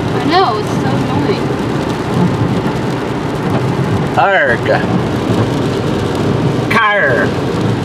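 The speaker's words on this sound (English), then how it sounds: "How is it that it rains like every freaking weekend, but yet in the week it could be fine?" Steady heavy rain pours outdoors with rumbles of thunder, while people talk and grumble loudly over it throughout.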